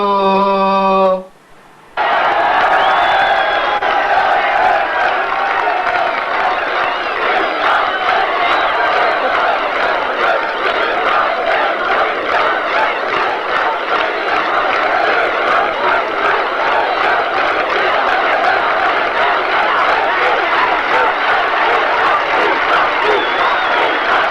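A large crowd at a 1993 political rally at Jinnah Ground, Azizabad, applauds and cheers in a continuous loud roar lasting many seconds, after a short opening tone and a brief gap.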